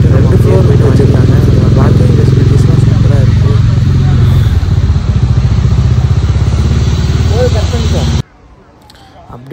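A motorcycle rides into the parking area of the Broadway Cinema in Coimbatore, its engine rumbling loudly and close with a steady putter that shifts in pitch, then cuts to quiet near the end.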